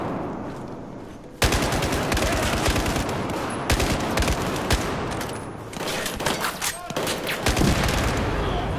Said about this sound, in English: Nice big explosion.